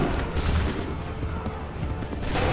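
Musket volley fire in the video game Assassin's Creed III crackles as a dense burst of overlapping shots, loud and close, with a second volley near the end and scattered battle noise between.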